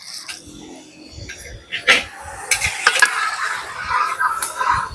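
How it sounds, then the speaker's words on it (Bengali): Whole garam masala, dry red chillies and bay leaves crackle in hot mustard oil in a kadai, with scattered spits and pops and a few metal stirring clinks against the pan. "ফোড়নে নিয়ে নিয়েছি গোটা গরম মশলা, শুকনো লঙ্কা আর তেজপাতা।"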